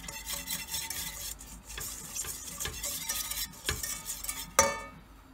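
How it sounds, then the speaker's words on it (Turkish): Ingredients for tomato soup are sautéed and stirred in a pot, with soft sizzling, scraping and a few light clanks of a utensil, fairly quiet and close, ending in one sharper knock. "Şimdi kavuruyorum."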